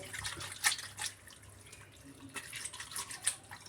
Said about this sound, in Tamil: இப்போ சுடு தண்ணியில் அலசிகிட்டு இருக்கேன்